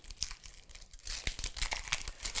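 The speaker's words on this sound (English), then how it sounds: "So let's cut up an onion." A Western-style Santoku knife slices through an onion on a board, making crisp, irregular crunching and crackling cuts, close and fairly quiet, with no talk.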